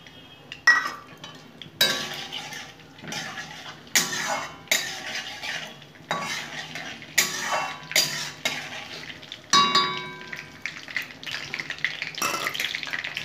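Whole cardamom, cinnamon, clove and a dried chilli sizzle in hot oil in a pan, with repeated stirring scrapes and clinks of a utensil against the pan in an irregular rhythm.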